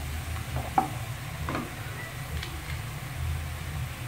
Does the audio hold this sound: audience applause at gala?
no